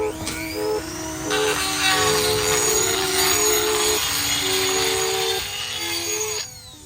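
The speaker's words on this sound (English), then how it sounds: "I'm gonna sand the inside of this out so this will slip in easily" Power sanding tool working the inside of a differential adapter bushing for a Nissan 240 subframe, a steady loud whirring grind running almost the whole time with a brief lower start and a tapering end.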